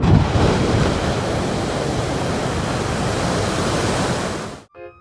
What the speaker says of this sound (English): Geysers release hot water and steam from the ground.